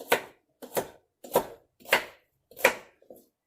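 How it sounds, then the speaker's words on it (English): Knife rough chopping peeled celery on a cutting board, six crisp, evenly spaced chops, close and distinct with quiet gaps between strokes and no speech. "And I'm rough chopping it."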